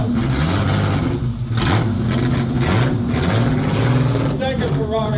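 A loud Ferrari 250 Testarossa V12 engine rumbles and revs close by at a parade, its throaty exhaust note rising and falling with a brief dip before building again.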